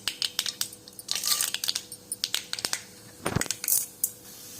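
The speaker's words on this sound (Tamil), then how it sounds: "தேவையான அளவு போட்டுக்கிற கடலைப்பருப்பு." Chana dal is tipped into a hot pan with already-popped mustard seeds, giving scattered, close clicks and rattling pops with faint sizzling between them and no talking.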